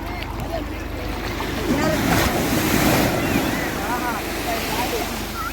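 Sea waves washing onto a Konkan beach, a steady roar of surf with a swell in the middle, wind buffeting the microphone and children's voices calling faintly in the background.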